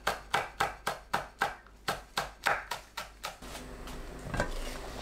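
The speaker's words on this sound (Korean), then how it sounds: "파, 청양고추를 둥글게 썰어줍니다." Knife chopping green onion and cheongyang chili peppers into rounds on a cutting board, about ten crisp, evenly spaced thuds in a steady rhythm, close and clear, then fading into a soft rustling background.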